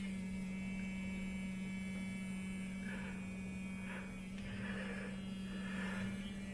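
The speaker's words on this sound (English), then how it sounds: "So this is my Colgate toothbrush that needs a battery and it works." A battery-powered Colgate vibrating toothbrush runs with a steady, low electric buzz held at one pitch throughout, faint and unbroken, with no talking.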